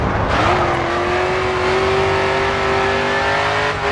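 Race car engine in GRID 2 held at full throttle, a loud, continuous high-pitched roar whose tone climbs steadily as it pulls onto the straight, with no voices over it.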